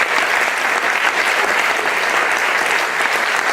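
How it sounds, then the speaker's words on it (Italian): Audience applause after a children's Christmas play, loud and continuous, a dense wash of clapping from a full hall that holds steady without pause. "Un bel applauso."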